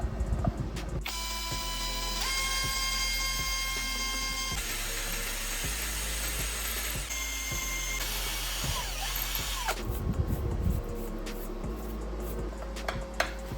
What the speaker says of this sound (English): Now I will mark and drill holes at these positions on the shaft bar.